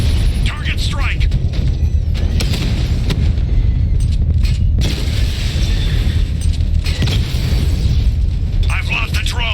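A drone strike in the Batman: Arkham Knight video game sets off heavy, continuous explosions: loud rumbling booms and cracks that overlap with little let-up throughout.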